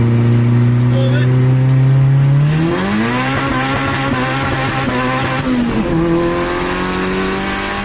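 A Mustang accelerates hard, its engine note climbing steadily, then dipping at a shift and climbing again, loud and close with a steady roar of wind and road noise throughout.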